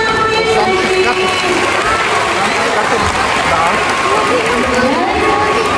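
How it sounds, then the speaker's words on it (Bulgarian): Audience at a dolphinarium show applauding, dense continuous clapping and crowd noise with cheers and children's voices throughout, loud and close. "С силни аплодисменти."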